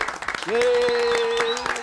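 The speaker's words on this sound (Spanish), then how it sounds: "Un aplauso para él." Audience applause for documentary director Juan Pin Vilar at a screening event, a steady wash of clapping swelling and holding for under two seconds, with a held musical tone sounding over it.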